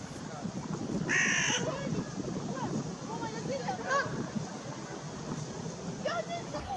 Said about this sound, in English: An envious carrion crow looks on.